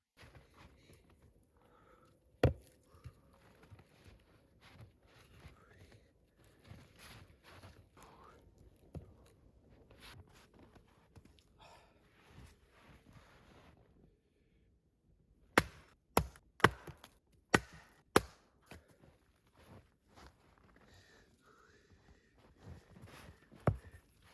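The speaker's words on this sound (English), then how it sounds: "Now, let's get to chopping." An axe chops firewood at a cold winter campsite in Norway, with scattered sharp thuds early, a quiet lull, then a quick run of five or six loud, hard strikes close by, with soft shuffling and breathing between.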